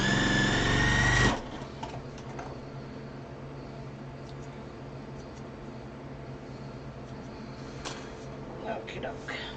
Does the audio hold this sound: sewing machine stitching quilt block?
yes